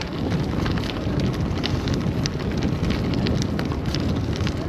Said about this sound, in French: Le vent est vraiment modéré